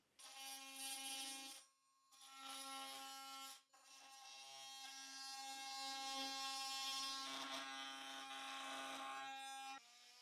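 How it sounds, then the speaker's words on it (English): An electric oscillating multi-tool buzzing at a high, steady pitch in three bursts, the last one long and strained as it cuts into material, loud and close with no speech. "the multi-tool. Oscillating tool, vibrator, whatever you want to call it."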